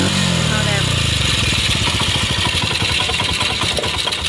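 A cheap petrol generator runs close by with a steady, even engine chug for a few seconds, while a voice talks over it.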